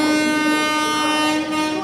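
Train passing at a station in Vijayawada, a loud sustained horn blast over rumbling wheels, very close and continuous.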